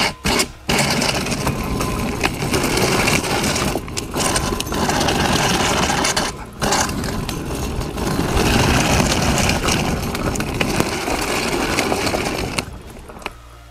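An electric drift trike rolls through a low-speed test, giving a steady whirring motor whine with scraping wheel noise that drops out briefly a few times before stopping near the end.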